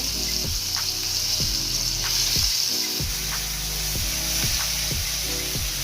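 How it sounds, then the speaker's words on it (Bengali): Hilsa fish pieces frying in hot mustard oil, a steady close sizzle and hiss running throughout with faint intermittent clicks. "আর এই সরিষার তেলের মধ্যে ইলিশ মাছটাকে ভাজবো।"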